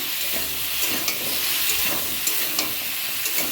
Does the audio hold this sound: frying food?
yes